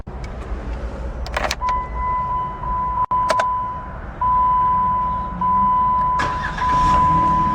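A 2011 Jeep Wrangler Sport with a 6-speed manual starts up: short cranking bursts sound over a sustained warning chime, then the engine settles into a close, steady idle.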